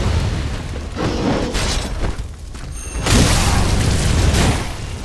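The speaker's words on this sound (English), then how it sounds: "pretty much punctuated by us running away from a dude with a giant gun emplacement" Heavy booming blasts from a giant gun emplacement in the video game Bloodborne, set in Old Yharnam: loud, rolling explosive bursts that pile up continuously, with a second strong surge late in the stretch.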